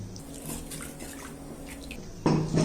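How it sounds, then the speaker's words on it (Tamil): Ground kodo millet batter is poured into a cooker, a soft wet splash and flow that arrives suddenly near the end, after quieter kitchen dripping and handling noises. "இதை நம்ம குக்கரில் ஊற்றிக்கிடுவோம்"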